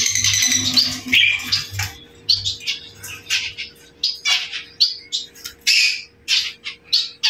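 Society finches in an aviary give a busy run of short chirps and squawky calls, fairly close, with a steady low hum underneath and no talking.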